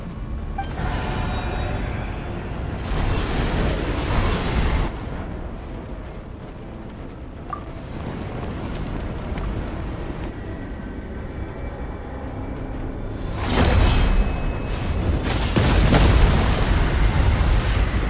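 Fire breaking out in the game Genshin Impact: a sustained roaring rumble with crackling, swelling into two heavy bursts near the start and end, loud and with no voices.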